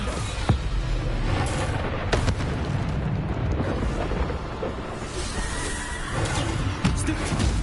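Bombarda explosion spell bursts in Hogwarts Legacy, a dense, loud run of booming blasts and impacts layered with combat noise, with sharper hits standing out now and then.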